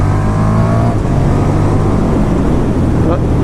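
A 2019 KTM 1290 Super Duke R motorcycle accelerating hard on the road, its engine a loud, steady roar with rising revs under heavy wind rush, heard up close from the rider's position.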